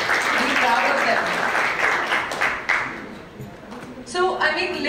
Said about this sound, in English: give a big hand of, you know, applause to your children